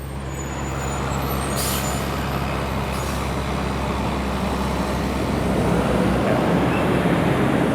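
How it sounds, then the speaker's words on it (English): A truck rolls past on a beach road in Palm Coast, Florida, a loud, steady engine and tyre roar close by that builds and holds for several seconds. "hold on, we got a truck coming by."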